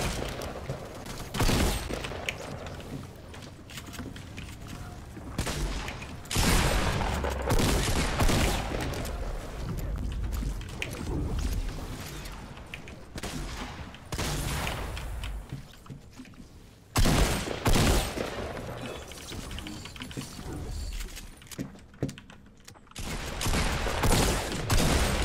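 Dense, sustained gunfire in a Fortnite Battle Royale match, with rapid bursts and volleys of shots running nearly continuously, loud and close, with brief dips and a player's voice occasionally underneath.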